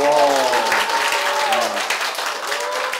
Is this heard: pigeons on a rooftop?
no